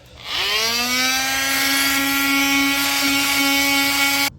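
A metal cutoff wheel spins up and holds a steady, loud, high whine while cutting old stapled wicker away from a steel furniture frame, running alone for about four seconds before stopping abruptly.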